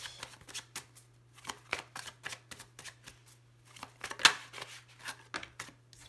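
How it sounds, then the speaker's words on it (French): A tarot deck being cut and shuffled by hand, a run of short crisp card riffles and slaps in a quiet room, close and fairly soft, with one sharper snap near the end. "on va déjà commencer avec une coupe avec mon tarot"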